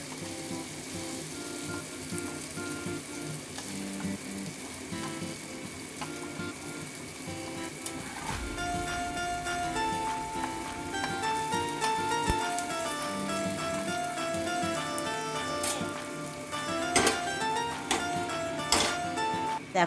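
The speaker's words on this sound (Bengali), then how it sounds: "এবারে মাছটাকে আমি ভেজে নিচ্ছি" Small mourola fish fry in hot oil, giving a loud, continuous close sizzle with crackling pops that grow busier partway through, and no talking over it.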